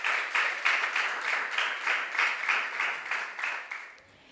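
Audience clapping for a team at a junior science and maths quiz, a steady run of distinct claps at a moderate distance that tapers off after about four seconds.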